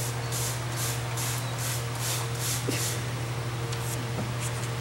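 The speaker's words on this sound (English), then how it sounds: "And now we are going to spray a piece of paper." A series of short, regular hissing sprays of fire retardant onto a piece of paper, about eight quick bursts in a row, over a constant low hum, then a couple of faint taps.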